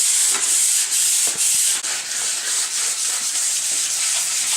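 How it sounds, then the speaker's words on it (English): Steady, raspy sanding of wood, the abrasive rubbing continuing in repeated strokes close to the microphone with no talking. "sanding everything up, getting it all smooth to get it ready for the staining process"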